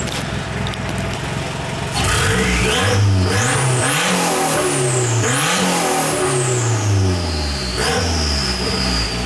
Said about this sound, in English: and when you rev it up, I kind of love it